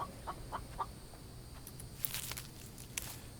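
A chicken in the survival video game The Infected gives a few faint, scattered clucks, mixed with light footstep-like taps over a quiet background.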